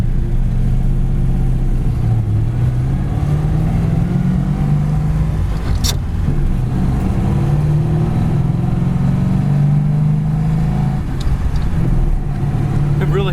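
A 1938 Ford Tudor with original-style brakes drives down the road, its steady mid-pitched engine drone and road rumble continuous and fairly loud inside the car throughout.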